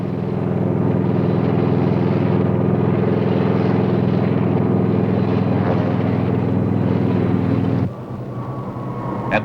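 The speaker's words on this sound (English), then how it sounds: "Resupply helicopters carrying food, water, ammunition," Helicopters resupply troops during the Vietnam War, a dense, steady rotor and engine roar carrying loud and continuous for most of the clip before it cuts to a quieter, thinner scene near the end.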